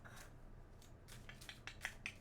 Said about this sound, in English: This deck is feeling for me, so I'm just gonna shuffle.